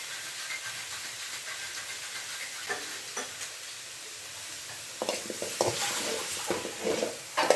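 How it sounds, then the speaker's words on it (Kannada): A spoonful of oil steadily hisses and sizzles under mushroom sambar ingredients being roasted in a pan, with scattered scraping stir strokes that grow busier toward the end. "ಸ್ವಲ್ಪ ಹಸಿ ಸ್ಮೆಲ್ ಹೋಗೋ ತನಕ ಚೆನ್ನಾಗಿ ಹುರ್ಕೊಂಬಿಡೋಣ"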